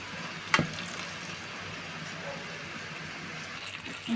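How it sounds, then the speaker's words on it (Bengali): Eggplant slices fry in a pan of oil, giving a soft, even sizzle close by, broken early by a single sharp clack of a utensil; no talking. "এদিকে তো বন্ধুরা কি সুন্দর আমার বেগুন ভাজি হয়ে যাচ্ছে।"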